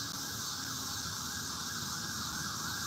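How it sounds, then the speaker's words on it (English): An ambulance siren wails steadily near a creek in St. Louis, a continuous high tone holding at a constant loud level over outdoor background noise, with no talking. "Another ambulance, guys."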